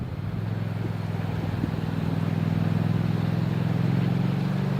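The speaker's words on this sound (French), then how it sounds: "Bruit de moteur que vous entendez derrière, c'est un quad" Quad bike engine running on an alpine pasture trail, a steady low mid-pitched drone that holds at a constant level throughout, sounding fairly close with no talking over it.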